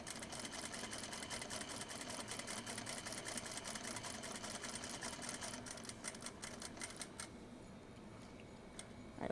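A home sewing machine stitches fabric on a scarf project with a fast, steady mechanical clatter that runs evenly for most of the stretch, then slows to a few separate stitches near the end.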